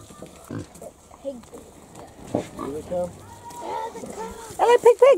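Pigs grunting at a resort on Taveuni, Fiji, with several short snorts and oinks scattered through the clip, growing louder and denser near the end, mixed in with people talking nearby.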